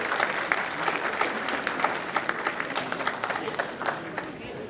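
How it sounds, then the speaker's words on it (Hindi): An audience at a veterans' foundation day and Vijay Diwas celebration gives a loud, continuous round of applause, dense crowd clapping that stays even from start to finish. "एक बार जोरदार तालियां तारा साहब के"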